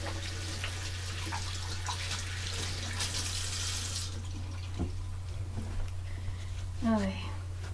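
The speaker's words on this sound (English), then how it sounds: "Wash hands real quick." Tap water runs steadily into a sink while hands are washed under it, a close splashing hiss over a low hum, with some clattering near the end.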